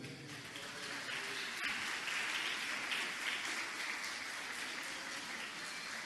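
Applause from an audience, an even patter of many hands clapping for several seconds at moderate volume.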